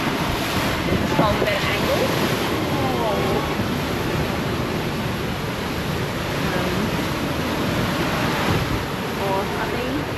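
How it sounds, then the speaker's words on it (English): Wind and ocean waves roar steadily around a sailboat on passage from the British Virgin Islands toward Panama, with gusts hitting the microphone and a person speaking briefly over the noise. "Get through the waves. Get through the wind."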